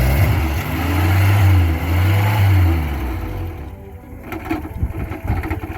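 An old car engine cranks and catches after carburetor work, a loud near churning drone with rising and falling revs that drops to an uneven idle with scattered knocks.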